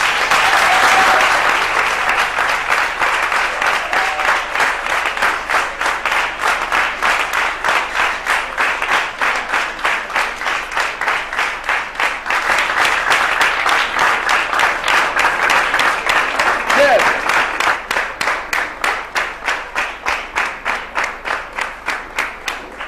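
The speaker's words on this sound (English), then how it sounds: "Parents, let us clap our hands to our brilliant student" A school audience of parents gives sustained, loud applause for the best mathematics student, the dense claps running steadily for over twenty seconds with a faint voice briefly audible partway through.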